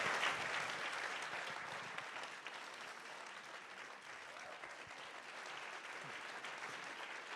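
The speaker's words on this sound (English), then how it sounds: "If we can have one more round of applause for Pádraig Ó Tuama." Sustained audience applause for an author at a Denver Public Library event, steady and fairly even throughout with many hands clapping in a room.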